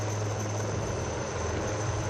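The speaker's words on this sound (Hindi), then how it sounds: "તમે જોઈ શકો છો કે ભારતીય કોસ્ટ ગાર્ડના બંને હેલિકોપ્ટર બચાવ માટે આવી ચૂક્યા છે" Two Indian Coast Guard helicopters hover about fifty feet up during a rescue demonstration at an air show on the Sabarmati River Front in Ahmedabad, giving a steady, loud rotor drone with a low throb.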